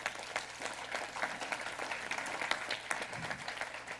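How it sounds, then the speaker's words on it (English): Applause from the audience at a university commencement ceremony in the Virgin Islands: continuous crackling clapping, faint and distant, steady throughout with a low hum beneath. "A round of applause for those again."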